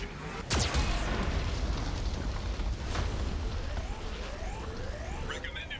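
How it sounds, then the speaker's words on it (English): A Geth cannon in the Mass Effect 2 video game fires with a loud, sharp boom early on, followed by rumbling explosion noise, another blast, and sweeping electronic tones, all close and heavy. "Warning, Geth cannon is locking on our location."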